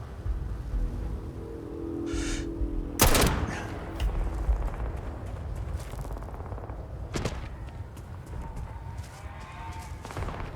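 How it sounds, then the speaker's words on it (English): Bursts of gunfire in the video game Starfield crack out in scattered volleys, one sharp loud shot early on and more distant rattling shots later, over a constant rumbling background. "I can hear even more gunfire from this way"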